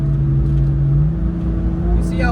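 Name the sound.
AC Schnitzer M2 engine at full throttle on Nurburgring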